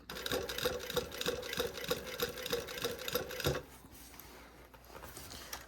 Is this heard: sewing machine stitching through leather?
yes